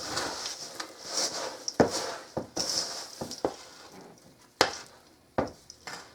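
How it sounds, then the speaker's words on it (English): Crispy rice chocolate chip oatmeal cookie dough worked in a bowl: soft, uneven scraping and clinks of a utensil against the bowl, with occasional sharper knocks, fairly quiet and close, no talking. "Now we're just going to work on mixing this together."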